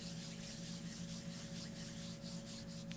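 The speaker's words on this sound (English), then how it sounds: "Rubbing your hands together" Hands rub together in a steady, soft, close friction hiss that lasts three seconds, heard during a guided meditation.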